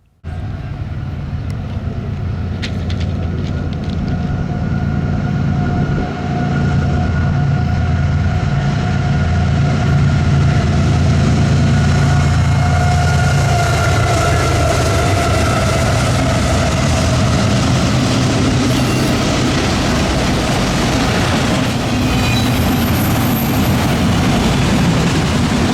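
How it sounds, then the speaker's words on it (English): Freight train CPKC 731, led by two CP units and a Union Pacific engine, rumbles past on a line with a heavy low engine drone, a broad rushing roar of rolling cars and a few sharp clanks. "it was the best train of the entire trip, CPKC 731, with 2 CP units and a Union Pacific engine"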